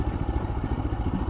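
A Royal Enfield Himalayan motorcycle rides along a dirt trail, its engine a steady, close, pulsing thump with some mechanical clatter.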